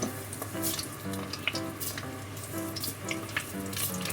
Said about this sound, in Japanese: 180度の油でささっと揚げていきます